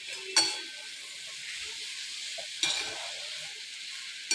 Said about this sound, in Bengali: মাথাগুলো দিয়ে ভালো করে নেড়ে নিচ্ছি